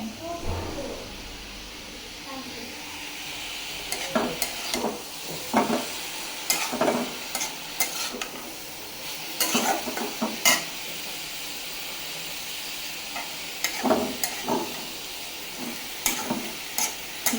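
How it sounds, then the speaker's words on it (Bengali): Vegetable bhaji is stir-fried in a pan with a constant sizzle and bursts of scraping utensil strokes against the pan at irregular intervals. "ভাজি একটু ভাজা ভাজা করলে আমার কাছে ভালো লাগে।"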